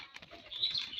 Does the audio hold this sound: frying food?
no